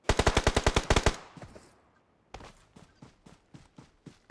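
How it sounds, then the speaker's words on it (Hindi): Gunfire in the PUBG Mobile game on the Livik map: a rapid automatic burst of about a dozen shots, a short pause, then a slower run of separate shots, all fairly close and loud with no talking. "अभी लेफ्ट में गोली चल रहा है।"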